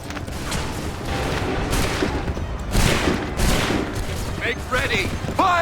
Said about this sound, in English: Make ready! Open fire!